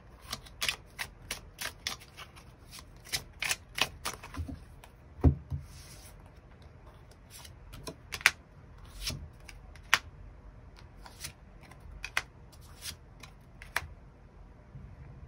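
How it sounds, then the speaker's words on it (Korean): Tarot cards being shuffled and drawn in a quiet room: a long run of crisp, rapid riffling bursts and soft card slaps, fairly close and alone without talk. "이 사람과 잘 지낼 수 있을지 또 조언 카드 뽑아보도록 하겠습니다"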